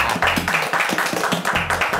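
Clapping in a comedy drama scene, heard as a quick, steady run of claps mixed with other rhythmic sound, fairly loud and close for about two seconds.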